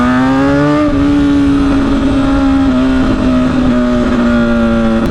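A vehicle with a loud new straight-pipe exhaust revs and holds a steady, rough, droning engine note close by, with its pitch rising slightly and then sagging over several seconds. No one speaks.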